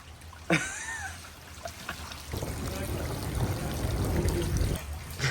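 Water rushing out after Lexel sealant holding it back gives way, a sudden gush that swells into a steady, loud flow with shouting voices over it.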